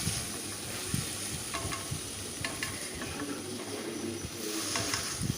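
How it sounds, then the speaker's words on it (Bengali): Onion, garlic, ginger and chopped tomato pieces stir-fry together in a pan for egg omelette curry, a constant hissing sizzle dotted with small spatula scrapes and clicks, close and fairly quiet with no one speaking. "তাই আমি এর মধ্যে দিয়ে দিচ্ছি এখন কেটে রাখা টমেটোর টুকরোগুলো। এবার এটাকে আমি সমস্তটা একসাথেই কষাতে থাকবো।"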